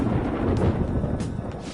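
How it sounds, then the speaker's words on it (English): Thunder rumbles low and heavy in the video game Persona 5 Royal, a loud rolling mass with rain hiss building and brief crackles, and no talking. "It sounds like it's going to rain."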